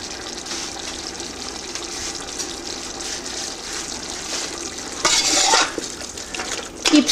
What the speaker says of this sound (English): add it little by little and saute it continuously